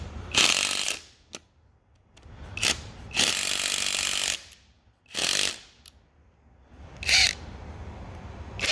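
A ratchet wrench with a 10 mm socket clicks in quick bursts while working a fastener on a Cummins engine, four or five short ratcheting runs separated by quiet gaps.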